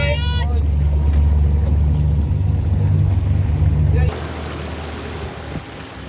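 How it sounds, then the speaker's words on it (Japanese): A Japan Coast Guard rescue boat's engine rumbles loudly and steadily close by at sea, then shifts abruptly to a lower, quieter idle with water and wind noise around it. "エンジン起動します。"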